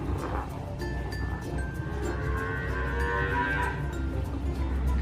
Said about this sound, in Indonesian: Maaf ya kalau dengar suara sapi, soalnya belakang rumahku ada yang ternak sapi.